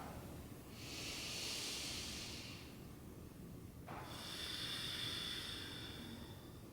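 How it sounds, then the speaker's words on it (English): Two long Ujjayi breaths, each a slow audible exhale through a constricted throat during a yoga practice, a soft steady hiss rising and fading, close and alone over quiet background. "as you exhale, slight constriction in the back of the throat, creating an audible exhale"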